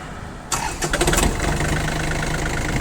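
A small four-wheel-drive mini tractor engine cranks briefly and catches, then settles into a steady running rumble close by, with no voices.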